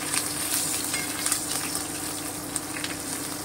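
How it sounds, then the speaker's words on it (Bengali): Asafoetida and chopped green chilli frying in hot oil while being stirred for a chickpea dal, a steady moderate hiss with faint scattered crackles. "এবারে আমি হিংটা আর কাঁচা লঙ্কা কুচিটা দিয়ে দিলাম, আমি একটুখানি নেড়ে নেব হিংটা দিয়ে।"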